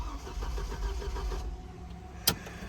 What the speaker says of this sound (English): We got the starting issue fixed because now it'll actually crank.